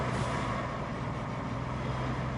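A white truck in the RoadCraft video game drives with a dense, steady engine rumble and broadband roar that stays loud and unbroken through the short stretch, with no talk.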